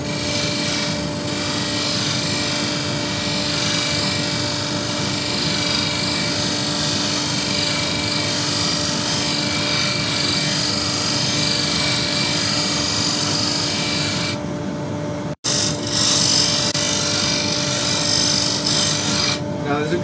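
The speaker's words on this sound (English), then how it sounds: "We're going to do a little bit of scraping again." A scraper tool works timber on a woodturning lathe for a clock insert, giving a continuous loud whirring hiss over the steady motor hum for most of the stretch, with a brief break near the end.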